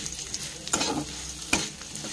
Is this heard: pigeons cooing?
no